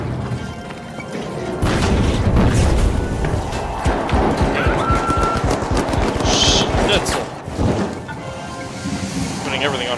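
Loud, dense game combat from The Finals: booming explosions, crashing debris and bursts of gunfire pile up into a continuous chaotic roar, with someone talking over the din.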